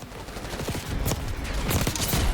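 Rapid bursts of automatic gunfire in the video game Call of Duty Black Ops 6, clustered shots in several quick volleys over a steady game background, moderately loud.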